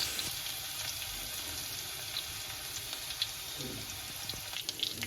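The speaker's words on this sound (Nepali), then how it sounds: "अब यसमा हल्का गरी कुटेको लसुनलाई हामी लाउने छौं र एकछिन तेलमा फुराउने छौं।" Lightly crushed garlic sizzles in hot oil in a wok, a soft, continuous frying crackle with small pops scattered throughout, close and moderately quiet.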